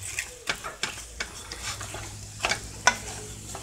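Ground beef for taco rice cooking in a pan, a soft sizzle beneath repeated sharp scraping stirs and utensil taps against the pan at an uneven rhythm, close by.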